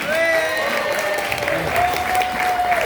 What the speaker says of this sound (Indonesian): Tepuk tangannya semuanya.